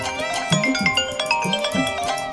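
A mobile phone ringtone playing a repeating melodic tone pattern, loud and close, announcing an incoming call from a police commissioner, with no talking over it.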